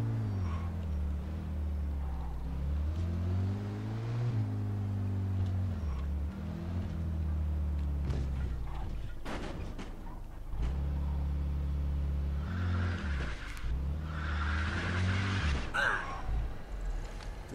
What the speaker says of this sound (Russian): как у него мотор плавно работает